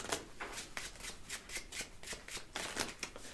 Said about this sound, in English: I'm doing conventional overhand shuffles and you're doing your finest tabled riffle shuffles